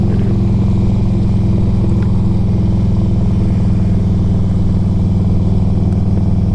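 A 2004 Harley-Davidson Electra Glide Ultra Classic rumbles at a steady cruising pace, its loud, low, even engine drone continuous and close throughout the ride.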